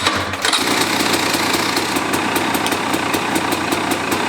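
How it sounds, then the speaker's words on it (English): A KTM or Husqvarna motorcycle engine catching after a brief start and then idling loudly and close with a rapid, even pulsing beat, no talking. "So let's start the bike."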